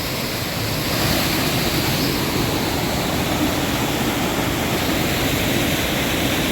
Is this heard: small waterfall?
yes